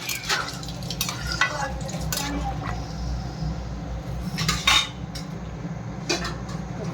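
Pakoras go into a cooking pan with a bed of frying sizzle, several clinks and scrapes of a utensil against the metal pan, and a few louder clatters as the pieces are added.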